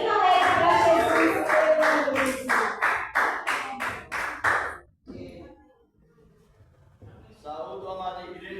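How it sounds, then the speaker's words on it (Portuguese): Church congregation clapping joyfully for Jesus in steady, rhythmic unison, a string of sharp loud claps that stops abruptly, followed by a near-silent pause and then faint voices and music returning. "Vamos estar recebendo sempre do Senhor palmas bem alegres para Jesus"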